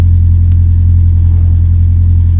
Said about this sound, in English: really, we're just listening to the tone of the exhaust